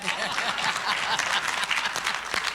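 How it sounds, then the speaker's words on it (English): Audience clapping at a talk show event, a steady dense burst of applause from a crowd filling the whole moment without any voices over it. "This is the part where you clap for Paulmet."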